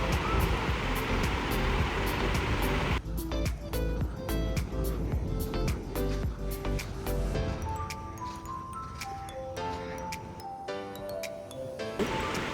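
Sea waves wash onto a beach at night during a beach festival. A loud, rushing surf noise opens the clip, then continues lower beneath tonal music-like sounds and clinks from the festival.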